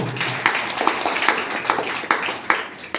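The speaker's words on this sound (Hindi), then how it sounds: "तो एक बार हमारे डायरेक्ट सेलिंग बिजनेस एसबीटीएस के लिए जोरदार ताली।" A seminar audience in Ahmedabad claps over a dense crowd murmur, with a few sharper, louder claps standing out irregularly throughout.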